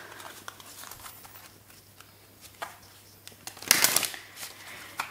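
Oracle cards being shuffled by hand, a soft continuous papery riffling with light taps and flicks that swell into a louder burst of shuffling near the end, faint and close.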